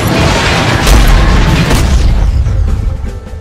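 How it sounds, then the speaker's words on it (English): A loud, deep explosion in Jagged Alliance 3 booms with a long rumbling tail and crackling debris, fading away toward the end. "And explosions."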